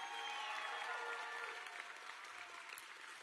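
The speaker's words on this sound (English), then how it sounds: "Please give them all a round of applause." Graduation ceremony audience at a high school applauding, a dense, continuous wash of many hands clapping at a steady level, heard at a distance and fairly faint.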